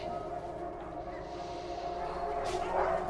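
Several dogs kept in a back kennel area yip and bark from a short distance, a steady chorus of overlapping canine calls with faint human voices mixed underneath.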